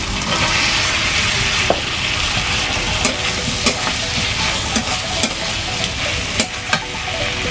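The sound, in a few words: prawns frying in a pan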